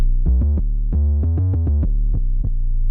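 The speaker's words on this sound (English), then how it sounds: "Now let's go to overdrive, which is my personal favorite for using Pedal on 808s." A distorted 808 bass, driven through an overdrive effect in Ableton Live 10's Pedal, plays a punchy rhythmic pattern of deep, gritty notes, loud and upfront with no voices.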